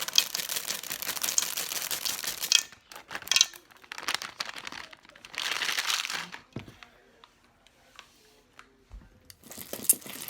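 A whole bag of chocolate chips is tipped into cookie dough, giving bursts of crinkling plastic and rattling, scattered chips, broken by short pauses and stirring sounds, all close up.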